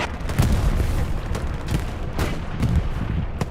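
Artillery fire in the World War II shooter Hell Let Loose, a rolling series of heavy booms and blasts at irregular intervals, loud and dense, with distant gunfire mixed beneath and no talking.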